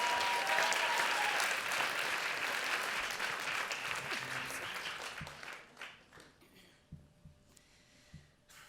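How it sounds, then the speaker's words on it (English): A Moth StorySLAM audience claps to welcome the next storyteller, a full round of applause that fades out over the last few seconds, leaving only a few scattered claps. "Big round of applause."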